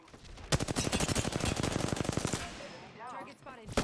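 Rapid automatic weapon fire in Apex Legends, a fast steady burst of close, loud shots lasting about two seconds, followed by brief game sound effects and a short voice line.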